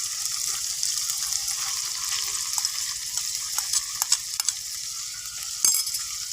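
Pigeon meat dropped into spice paste frying in oil and stirred, giving a steady close sizzle with scraping stir strokes and a few sharper clinks.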